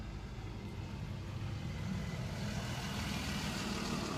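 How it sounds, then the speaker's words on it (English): A truck passes by outdoors, a steady low engine rumble and road noise that swells gradually, heard at a distance and without talk. "I'll wait for that truck to go by."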